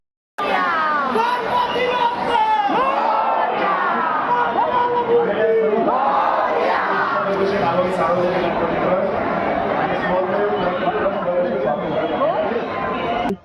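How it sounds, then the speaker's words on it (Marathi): Dense festival crowd packed in line for Ganpati darshan in Pune, a steady roar of overlapping voices and chatter close around, continuous and loud throughout with occasional raised calls. "पण प्रचंड गर्दी असल्यामुळं कॅमेरा स्टेबल होत नव्हता"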